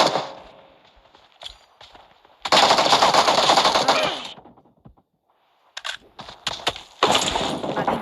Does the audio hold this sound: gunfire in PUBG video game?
yes